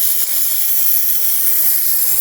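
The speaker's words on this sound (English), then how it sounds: "it's a nice steam coming out of the machine" Steady, loud steam hiss pours continuously from a Jura Impressa F50 coffee machine, with no other sounds.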